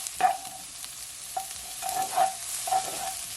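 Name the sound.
stirring salt and pepper shrimp ingredients frying in a pan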